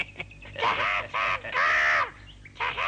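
Harsh, raspy bird squawks from a cartoon parrot, several loud bursts in a row with short gaps, close and clear with no speech over them.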